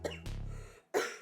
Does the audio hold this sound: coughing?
yes